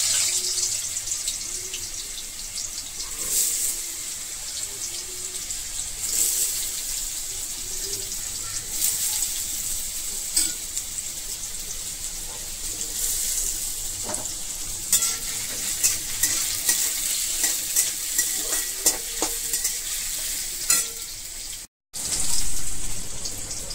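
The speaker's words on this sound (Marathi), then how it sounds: "आता आपल्याला बटाटे तेलामध्ये सोडायचे" Potato pieces fry in hot oil for sabudana khichdi, giving a continuous close sizzle with scattered pops and crackles that cut out briefly near the end.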